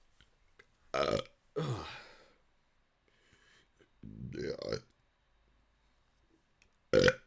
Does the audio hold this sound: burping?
yes